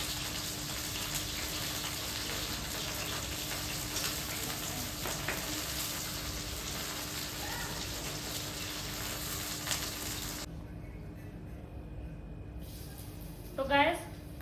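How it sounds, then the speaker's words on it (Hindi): Okra (bhindi) fries in hot oil in a home kitchen, a constant bright sizzle and crackle lasting about ten seconds before cutting out, followed by faint clinks and a short stir. "अभी भिंडी तली जा रही है"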